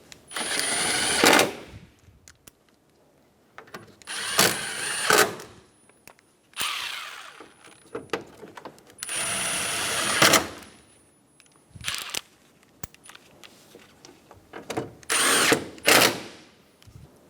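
Power tool driving radiator mounting bolts on a 2012-2020 Chevrolet Sonic 1.8L L4: repeated loud whirring bursts of a couple of seconds each, with short quiet gaps and ratcheting clicks between runs, up close.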